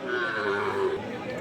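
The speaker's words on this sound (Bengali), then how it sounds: "এই যে গরুগুলি দেখতেছেন," Cattle low at a rural livestock market where Sahiwal and border-bred calves are sold, a drawn-out moo heard close amid the crowd's chatter.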